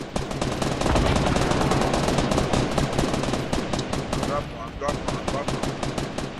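Rapid automatic gunfire from the video game Fortnite rattles in dense, continuous bursts, loud and close, easing slightly near the end where scattered shots continue.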